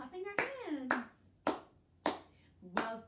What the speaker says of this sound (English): We'll start by clapping our hands.